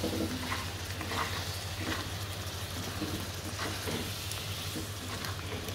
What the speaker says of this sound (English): Then give them a good stir